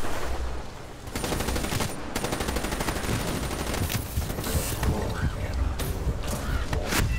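Dense automatic and rapid gunfire from Call of Duty: Black Ops III rattles almost continuously, loud and close, with bursts overlapping and brief dips, over a faint game soundtrack.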